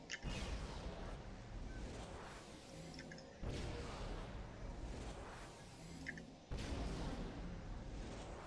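Force Cascade power blasts in the superhero game Champions Online, three big booming bursts with rumbling, crackling tails, each spaced a few seconds apart, with no voices.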